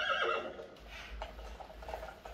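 A horse neighs and whinnies with hoof clip-clop, played as a sound clue in a guessing game with a Nao robot, fairly faint and brief.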